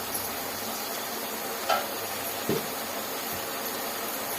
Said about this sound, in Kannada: ಮಸಾಲೆ ಸೇರಿಸ್ಕೊಂಡು 10 ನಿಮಿಷ ಫ್ರೈ ಮಾಡ್ಕೊಬೇಕು